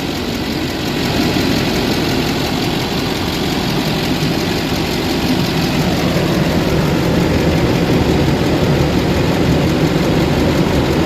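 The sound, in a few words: LBZ Duramax diesel truck engine idling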